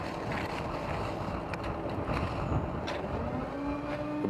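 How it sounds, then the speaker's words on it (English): The engine of a CemenTech volumetric concrete mixer runs at raised throttle outdoors: a steady, loud, broad rumble that holds even throughout, with wind buffeting the microphone and no talk. "We've throttled up the engine."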